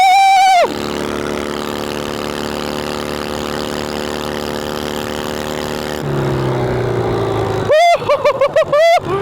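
A 16 horsepower engine on a modified snow and mud riding mower runs hard at high revs, a loud, steady drone that drops in pitch near the end and breaks into a few sharp revving bursts.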